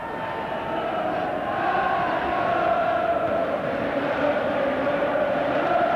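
Football stadium crowd at an England versus Norway match, a broad, continuous roar of many voices, steady and distant-sounding, swelling slightly partway through.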